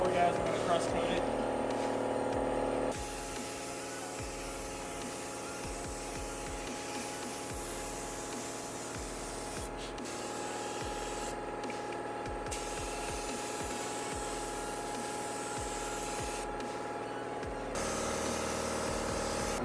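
A spray gun hisses steadily as blue metallic paint goes onto a car in a home setup, a continuous airy rush with brief pauses between passes, with talk over it.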